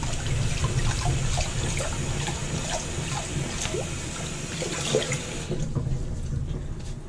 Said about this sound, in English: I'll just take it and rinse it in the sink just to get any residue out